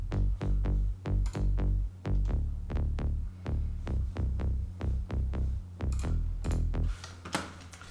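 A dry synth bass pulses in a steady, fast rhythm of short low notes, plain and punchy, with brighter clicky hits near the end.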